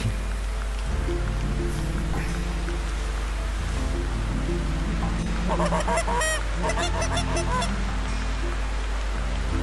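Geese honking in the hunting game The Hunter, a burst of several overlapping calls in the middle, moderately near, over a constant bed of falling rain.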